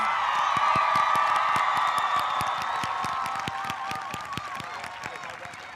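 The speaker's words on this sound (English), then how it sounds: "Let's give them a big round of applause" At the A.L. Brown High School class of 2022 graduation, the audience applauds and cheers the graduating class, dense clapping with whoops and tonal cheering that gradually fades, sharp individual claps standing out as it thins.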